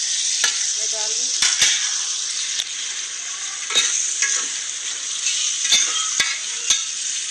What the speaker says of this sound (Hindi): टमाटर गल रहे हैं, इसको हम अच्छी तरह मिक्स करके